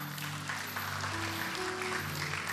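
A church audience applauds drama performers, a continuous broad patter of many hands clapping at moderate distance, with a low sustained musical hum underneath.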